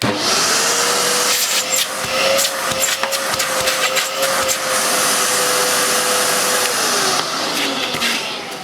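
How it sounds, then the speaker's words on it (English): A Hoover Purepower U3430 vacuum cleaner runs steadily and loudly throughout, its motor whine holding a level pitch while the suction is tried, with brief scraping and rubbing knocks over the drone. "Let's have a quick go of the suction just to"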